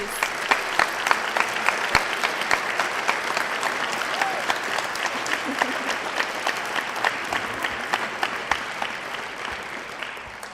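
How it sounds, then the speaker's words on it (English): Steady round of applause from an audience of parents, family and friends at a 2019 National Honor Society induction ceremony for new inductees, dense clapping sustained evenly throughout with a faint voice murmuring underneath. "let's have a round of applause for all of our new inductees."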